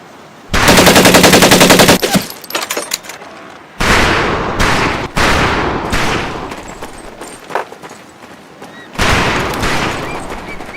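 Rifle and machine gun fire from the World War II shooter game Medal of Honor Pacific Assault, with loud sustained automatic bursts, a brief pause, then more rattling volleys and single shots alone without talk.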